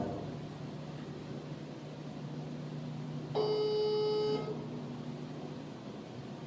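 A telephone call rings unanswered: a single steady ringback tone lasts about a second over low background hum and hiss, then silence returns.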